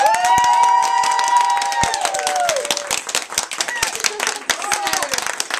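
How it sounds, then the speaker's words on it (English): A small audience claps for a women's drama group after their performance, with an uneven patter of hands, some cheering and a sustained musical or vocal tone early on, growing more scattered toward the end. "Can we just give them another round of applause?"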